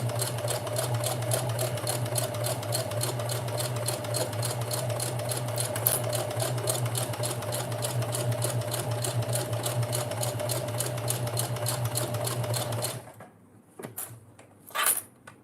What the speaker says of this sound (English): I can sew corners.